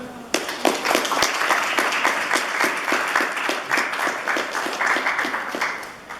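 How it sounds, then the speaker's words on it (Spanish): Audience clapping at a student federation election debate in Chile, rapid, evenly spaced claps from a sizable crowd that start abruptly and continue steadily, fairly near and moderately loud. "Les damos por favor un fuerte aplauso."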